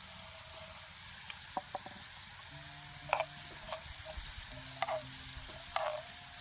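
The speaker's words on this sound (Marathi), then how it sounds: "लसूण टाकून घेऊ लसूण चांगलं परतून निघेल ह्या तेलात आता हे मसाल्यातलं कारळ आहे ते कारळ घालून घेऊ" Garlic and niger seeds fry in hot oil with a steady close sizzle and hiss, broken by a few soft stirring clinks and pops, and no voice over it.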